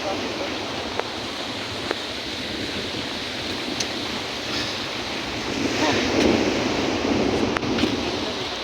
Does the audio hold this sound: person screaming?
no